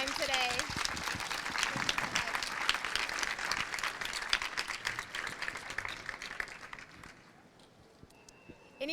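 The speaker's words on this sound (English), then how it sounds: "one final round of applause for all of our speakers." A conference audience at an emergency medicine event gives a final round of applause for its panel of speakers, a thick, sustained clapping that holds steady, then thins and fades out near the end.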